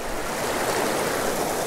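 Waterfall pouring into a deep pool on a wild trout stream, a steady, loud broadband rush of water that fills the whole moment without pause, close at hand and with no voices.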